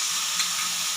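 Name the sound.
tomato paste frying in oil for chicken leg curry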